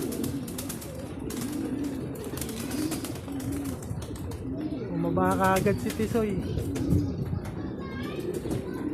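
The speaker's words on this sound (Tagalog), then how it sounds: "Yan yung mga ibon natin." Young pigeons coo in soft repeated bursts amid a noisy outdoor background during a release, with a person speaking over them.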